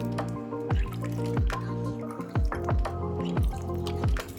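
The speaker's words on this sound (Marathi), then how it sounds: "आता आपण यातनं लोण्याचा गोळा काढून घेऊया." Water drips steadily from a lump of butter lifted out of churned milk cream, making a run of close, repeated plopping drips with no speech.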